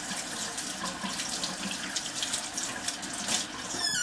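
Tap water runs steadily into a kitchen sink as hands are washed under it, a close and continuous splashing flow with no talking.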